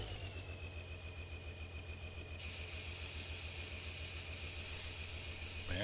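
A tractor engine idles in Farming Simulator 15, a steady low, even rumble held throughout at a moderate, constant level with no other sounds over it.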